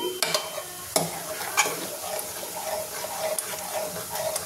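Cooked dal with mango and tomato being mashed by hand inside a pressure cooker, producing wet squelching, stirring and soft scraping with a few sharp clinks of the utensil against the pot, close and continuous without talk.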